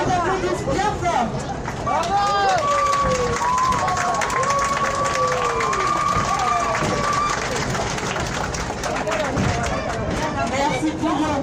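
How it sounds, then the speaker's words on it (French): Passengers on a steam tourist train in the Dordogne valley clap for the locomotive crew, a broad wash of applause and cheering mixed with crowd chatter and a few brief voices, close and continuous. "Il mérite qu'on les applaudisse bien fort."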